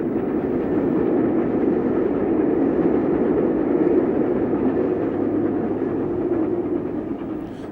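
A Castle class steam locomotive passes in Gloucestershire with a steady low roar and rhythmic rolling, holding loud before easing slightly at the end.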